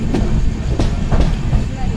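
A Diva–Ratnagiri passenger train rolls into Chiplun railway station with loud, rhythmic clacking of wheels over rail joints, several heavy thumps in a steady beat close by.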